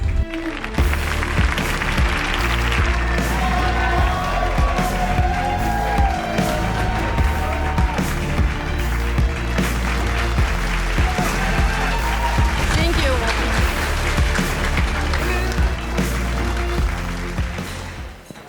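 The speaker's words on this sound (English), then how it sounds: "So please, your warm applause to Ukrainian Stepan the cat." Audience applause and cheering at the 2022 World Influencers and Bloggers Awards show, loud and continuous clapping from a large crowd with voices mixed in, swelling throughout and fading at the end.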